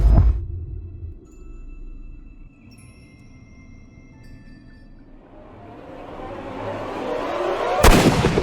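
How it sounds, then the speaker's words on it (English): A single sharp gunshot in the Sherlock Holmes: Crimes & Punishments video game, a loud broadband crack near the end, after a low rumbling game ambience with a rising hiss. "Good shot, Watson. I always knew you were a talented marksman"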